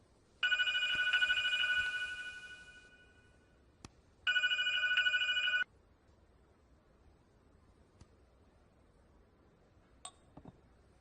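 A telephone bell rings in two separate bursts, the first about two seconds long and the second about a second, loud and close in a quiet room with no talk.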